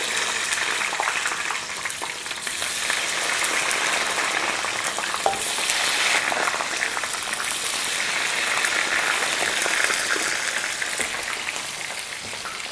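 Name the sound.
frozen fries deep frying in oil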